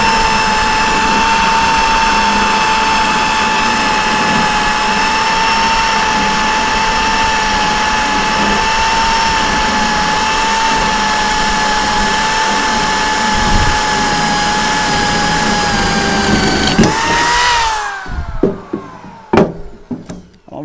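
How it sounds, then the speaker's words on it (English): A 1/2-inch electric drill runs from an OUPES Mega 2 power station with a loud, steady high-pitched whine that holds for about seventeen seconds before winding down and stopping, followed by a few faint knocks. "what this 1/2-inch drill will do"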